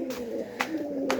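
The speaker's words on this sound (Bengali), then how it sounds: "এই যে এখন দেখেন টিনে গেল কবুতরটা।" A pigeon on a tin roof gives three soft, low coos spaced about half a second apart, fairly close in a quiet setting, with no talk.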